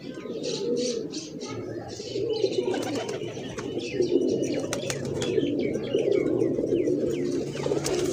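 A captured grey pigeon coos steadily in low, repeated throaty calls, with faint chirps and rustling scattered over a continuous background murmur.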